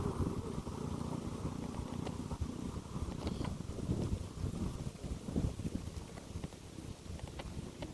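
Strong, gusty wind roars and buffets the microphone continuously, with rumbling low noise throughout.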